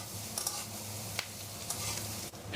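Maggi noodles fry in a pan and are stirred now and then, a soft steady sizzle broken by a few short scraping stirs, close and fairly quiet with no talk.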